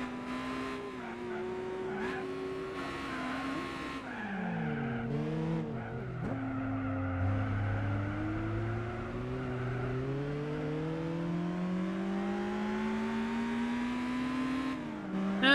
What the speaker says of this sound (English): Oh, I'm going to crash into this thing.